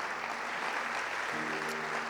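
Applause for church pastors and leaders fills a packed evangelical service, a steady wash of clapping from a large congregation, with faint tonal hum from the sound system underneath.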